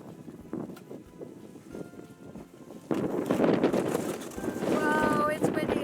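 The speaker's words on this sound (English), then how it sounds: "it's windy and things are blowing away" Gusty outdoor wind buffeting the microphone in a garden during seed starting, rougher and louder in the second half, with a person talking over it.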